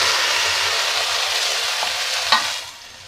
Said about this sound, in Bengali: এর মধ্যে আমি এই গাজর আর ঝিঙেটাকে একটু ঢেলে দেবো